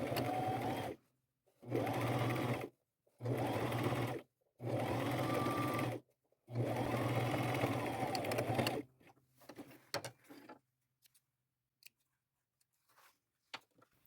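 A sewing machine sews down a pant hem in five steady bursts separated by short pauses, then quiet fabric handling and small clicks follow.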